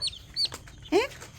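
Soft, high peeping chirps from a chick, a few brief calls spaced apart over quiet background.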